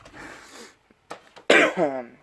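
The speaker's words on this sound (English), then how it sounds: "Sorry about the coughing there." A couple of short coughs and a throat-clearing sound, close by, with a brief pause between them.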